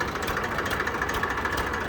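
An Indofarm 4x4 tractor fitted with a Massey engine idles close by, a steady loud diesel drone with a faint rhythmic knock and no talk.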